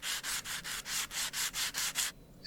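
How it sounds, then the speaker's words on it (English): Sandpaper scrubs across a surface in the Train Station Renovation game, nine even back-and-forth rasping strokes in a steady rhythm, close and dry, ending in a brief silence before a new sound starts. "Let's get these sanded."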